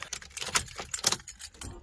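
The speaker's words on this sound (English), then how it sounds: "Why do I always stick my keys in my pocket when I do my belt up?" Keys jangle as they are stuffed into a trouser pocket while a belt is being done up, a few quick, close metallic clinks and rattles in short bursts.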